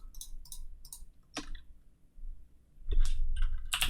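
A computer mouse clicking while Excel cells are selected: a few quick close clicks, some in pairs, with short gaps and a faint background hum, no speech.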